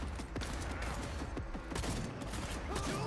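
Gunfire from a shotgun in the Cyberpunk video game, heard as dense, loud blasts and impacts amid continuous game combat noise with no quiet gaps.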